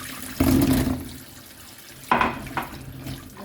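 Tap water runs over peppers being washed for Jamaican Christmas jerk seasoning, in two splashy bursts at a kitchen sink. The first lasts about half a second and the second is shorter, with quieter handling noise between them.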